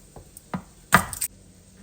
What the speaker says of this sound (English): So that is a whole lot of garlic. I don't want to grate it. I just want to kind of slightly thinly slice.